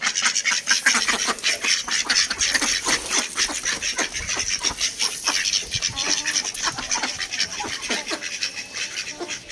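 A flock of restless ducks quack loudly and continuously while waiting for and being given feed, with dense overlapping raspy calls close by throughout.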